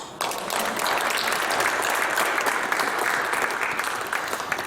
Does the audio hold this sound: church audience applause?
yes